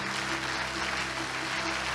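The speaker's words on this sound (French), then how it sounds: "je nous prie de faire un maximum d'applaudissements" Applause from an audience at a live stage show in Gabon fills the whole stretch as a steady, dense patter of clapping, with no break and no voices standing out.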